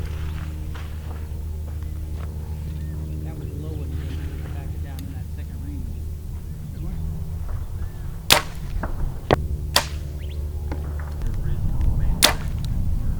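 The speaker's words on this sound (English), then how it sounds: "I'm gonna shoot a 3-arrow group crouched, like half crouched" Three sharp arrow impacts from a bow shot at a target in the field by a half-crouched archer, spaced a second or two apart, loud and close over a steady low outdoor rumble.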